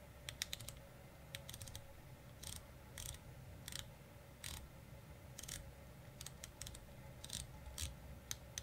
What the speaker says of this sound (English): Not the loudest, but man, that is a nice 60-click bezel